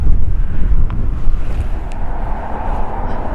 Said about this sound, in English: We have a little bit of wind, so that's the only problem.